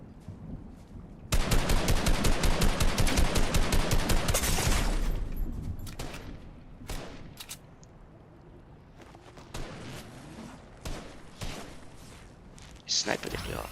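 Rapid bursts of assault rifle fire in the video game Fortnite, a dense loud volley that later breaks into scattered shorter shots, with a player talking over the quieter stretch.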